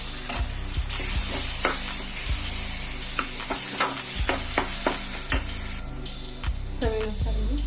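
Tomato masala for baingan bharta sizzles steadily in oil in a pan, with repeated scraping stirs and spoon knocks punctuating the constant frying hiss.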